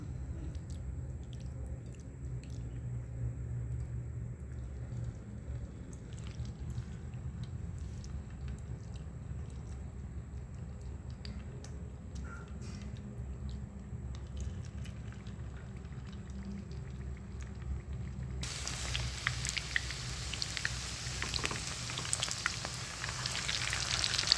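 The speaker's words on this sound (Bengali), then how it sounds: "এবার পকোড়াগুলো ভাজবো।" Chicken pakoras frying in hot oil, a steady crackling sizzle that continues throughout and grows brighter and louder in the last few seconds.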